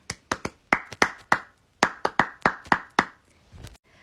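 Hands clap out a rhythm in short groups of sharp, close claps separated by brief pauses, crisp and dry with no talking over them.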